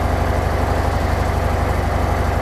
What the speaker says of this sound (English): If I turn on the engine now here, and what you'll have is the